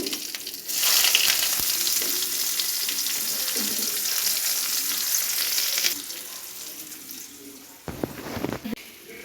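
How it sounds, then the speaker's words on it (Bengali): Chopped onions with cumin seeds and whole garam masala sizzle steadily in hot oil in a home kitchen pan, a loud continuous frying hiss with occasional stirring clatter, easing briefly near the end before a few louder scrapes. "সামান্য জিরে দিলাম, গোটা গরম মশলা দিলাম, পেঁয়াজগুলো দিয়ে দেবো।"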